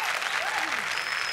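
Audience applause for the team at a Marathi comedy show stage, a steady dense clapping wash that holds at even loudness throughout, with a faint tonal whistle over it.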